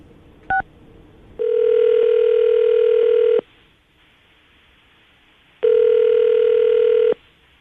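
A telephone call is placed: a short electronic beep, then two long, loud, steady ringback tones separated by a pause of near silence.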